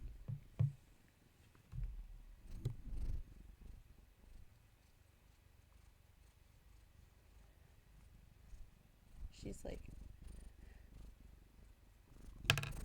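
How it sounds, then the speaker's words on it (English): A domestic cat purrs in a low, steady rumble close to the microphone, with occasional bumps and rustling handling noises breaking through. "She's doing loud purrs."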